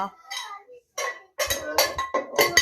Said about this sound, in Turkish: Siz tencere tavayla ne yapıyorsunuz Devran?